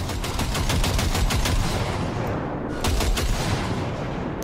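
A long burst of rapid automatic gunfire in the video game Cyberpunk 2077, with dense repeated shots pounding loudly and almost without a break over roughly four seconds.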